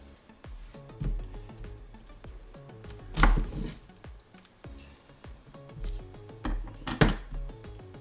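A knife chops through a vegetable on a cutting board, trimming off its hairy end for guacamole, with steady close-up taps and a few louder thuds and scrapes, no speech.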